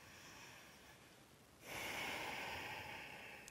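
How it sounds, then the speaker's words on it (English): A single slow, deep breath during a yoga downward dog pose: a soft airy inhale that swells and holds, audible up close with no talking. "so take 2 more breaths here"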